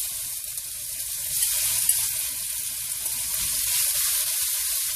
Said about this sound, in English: we're going to take our sausage and we're going to use a different fork